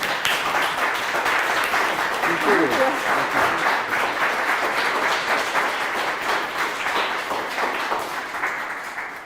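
Concert audience applauding for the director at a final Mickiewicz concert, a dense steady wash of many clapping hands filling the whole stretch, with a voice speaking briefly over it.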